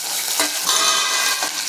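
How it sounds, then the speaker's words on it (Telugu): Sliced onions frying in hot tempering oil with dried red chilli for brinjal curry, a steady close sizzle with brief stirring scrapes, no voices. "ముందుగానే కోసి పెట్టుకున్న పెద్దలపాయలు వేసుకొని ఫ్రై చేసుకోవాలి"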